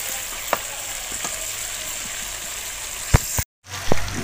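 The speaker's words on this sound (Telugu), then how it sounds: "అన్ని తిరగా బోర్లా వేసుకొని ఇలా తిప్పుకోవాలి చక్కగా." Bitter gourd pieces fry in an oiled pan with a continuous hissing sizzle and scattered light clicks as they are flipped, then a brief dropout before the sizzle resumes.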